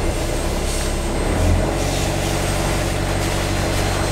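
A Beneteau Oceanis 48 sailboat's inboard engine runs loud and close as the throttle is pushed forward in gear, a steady broadband drone with a slight swell in revs partway through.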